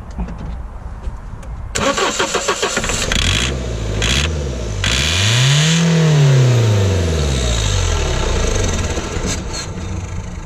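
A diesel car engine, with brake cleaner sprayed into the air intake, cranks for a few seconds, then catches and starts. It revs up and down loudly and settles into a steady run, close by with no talk.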